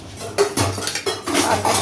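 Metallic clanks and a clatter as a lid is set onto a cooking pot of rasam, a few quick knocks close up.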